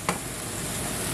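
White wine poured into a pan of sizzling onions to deglaze, a steady close hiss of frying with a couple of brief stirring clinks, no talking.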